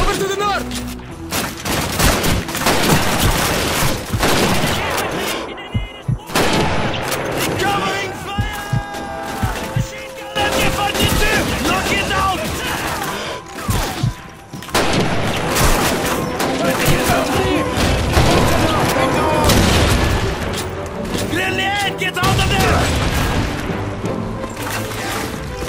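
Dense MG-42 machine gun fire and other gunfire in the Call of Duty 2 video game, continuous loud bursts with explosions and battle noise throughout, with shouted voices mixed in.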